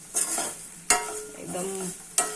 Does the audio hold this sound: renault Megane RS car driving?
no